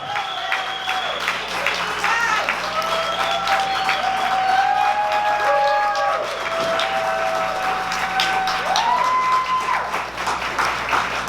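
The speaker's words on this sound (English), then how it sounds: "I want you all to give a round of applause for Brenda and the entire team for what they've done" A crowd at a self-improvement event applauds and cheers for the organizing team, sustained clapping with scattered whoops and shouts over it, loud and continuous for over ten seconds.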